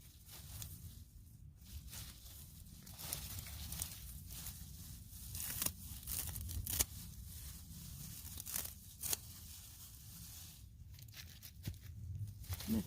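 Celery plants being cut down in a garden, with faint, close tearing, snapping and crunching of stalks in irregular bursts across several seconds, along with rustling leaves.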